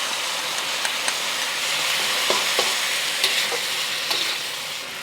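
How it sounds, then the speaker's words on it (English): Sauce with cornstarch slurry bubbles and sizzles loudly in a hot pan, a dense continuous hiss with occasional stirring clicks, easing slightly at the end. "I'm going to add our cornstarch slurry."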